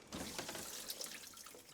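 Water sprays steadily inside a GE or LG dishwasher with the lower spray arm running, a continuous hissing wash with splashing that fills the short span at moderate level.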